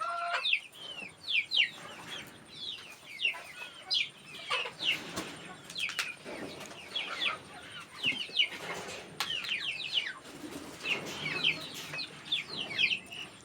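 A flock of Mulam (bamboo) chickens in a free-range village yard clucks and chatters continuously in bursts, with occasional wing flaps at moderate distance.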